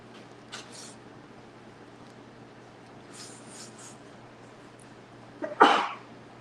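A single sharp, close human sneeze bursts out near the end of a quiet stretch, preceded by a few soft breaths and sniffs.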